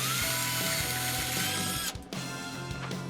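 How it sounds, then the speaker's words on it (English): A cordless drill whirs steadily at close range while drilling holes, its motor pitch holding even with a brief dip partway through before it picks back up. "I made holes with a cordless drill."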